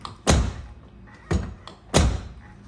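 The door of a 1999–2007 Ford Super Duty extended cab, hanging low and hard to close, shuts three times in heavy, close thunks spaced about a second apart, each ending in a brief rattle.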